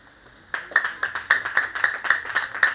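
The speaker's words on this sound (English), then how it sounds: "If we can clap more, so he deserves it." An audience at a Nigerian anniversary celebration breaks into clapping after a quiet moment, with a few close, distinct hand claps in a loose, uneven rhythm that carries on steadily to the end.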